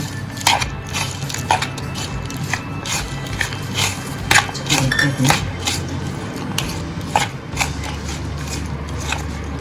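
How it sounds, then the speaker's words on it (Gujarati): Masala papad bhel being tossed with lemon juice in a bowl, with steady light clinks and scrapes of a spoon against the dish and a crisp rustle of broken papad, close and continuous with no talk. "લીંબુનો રસ એડ કરી દઈશું જેટલું તમને ખાટું ભાવતું હોય એટલો એડ કરવાનો સારી રીતના મિક્સ કરી લેશું"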